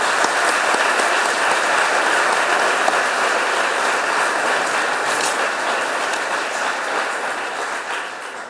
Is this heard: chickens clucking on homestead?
no